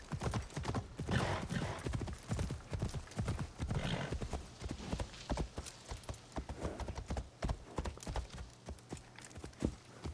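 Horse hooves clip-clop steadily on the ground in Assassin's Creed Shadows, a close, rhythmic series of hoof strikes with a brief whinny, running throughout with no talk.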